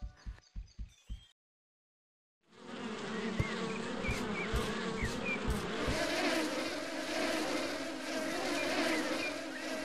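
Bees buzz in a video game, a dense continuous drone that fills most of the stretch after a few short thumps and a brief pause, steady and fairly close.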